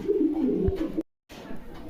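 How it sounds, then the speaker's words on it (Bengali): Pigeons kept in a cage coo in low, throaty rolling calls, close and fairly loud, with a short gap of silence before the cooing resumes. "দেখেন খাঁচার ভিতরে দিয়েছি কবুতরগুলো অ্যাক্টিভ"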